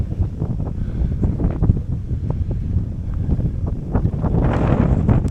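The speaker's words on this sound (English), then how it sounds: "And just the wind is nuts." Strong wind on a canyon trail on Kauai buffets the microphone in a loud, continuous low rumble with gusty surges, swelling further near the end, no talk.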